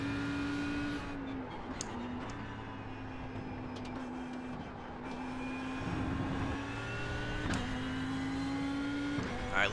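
A race car engine in the iRacing sim drones steadily at mid pitch throughout, its tone rising and dipping with throttle changes and a brief stutter on reapplying power, with no talk.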